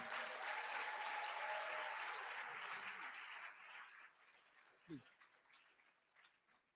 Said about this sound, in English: Can we all give them a big applause?